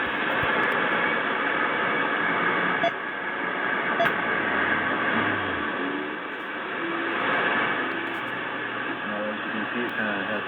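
Shortwave radio picking up a Podar digital-mode signal used for measuring waves, a noisy band of static with a slow sweeping motion, steady and fairly loud.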